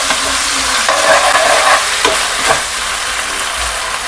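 Chilli chicken with Schezwan sauce is stirred in a hot pan, a loud close sizzle with scraping strokes of the spatula and occasional clinks, no talking.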